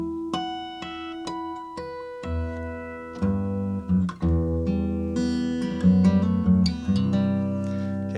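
Dark, dramatic fingerstyle melody on guitar cycling through a chord progression: sparse plucked single notes at first, then fuller ringing chords with bright picked accents, close and clear with no talking.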